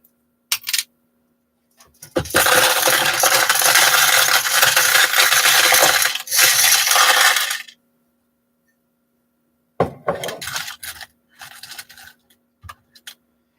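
Metal washers being sorted during a workshop tidy-up: a long rattling, rubbing shuffle of loose metal pieces for about six seconds, then a pause and a scattered run of sharper clinks and clatters, with no talking.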